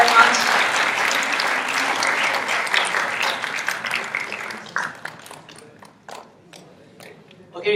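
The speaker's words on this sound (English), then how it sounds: "Shall we give a big round of applause for Group 1?" A large audience applauds a group presentation at the Hitachi Young Leaders Initiative, a loud, dense burst of clapping that thins out into scattered, fading claps toward the end.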